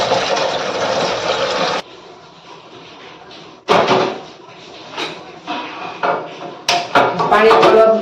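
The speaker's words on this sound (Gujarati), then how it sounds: "તો પેલામાં લઈ લીધું પાણી" Water is poured into a vessel during home cooking, with a strong steady rushing stream for nearly two seconds, then quieter splashes and several sharp clatters and knocks nearby; a voice is heard talking.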